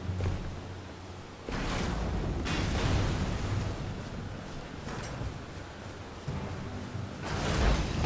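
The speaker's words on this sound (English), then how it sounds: "They've got a cannon or a bolt thrower." A cannon or bolt thrower fires in the Elden Ring video game, giving several sharp, booming shots a second or two apart over continuous game noise.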